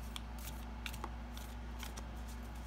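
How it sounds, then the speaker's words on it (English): Stiff new tarot deck being shuffled by hand, giving quiet, brief papery riffles and snaps at irregular moments over a low background hum. "Let's see how it shuffles."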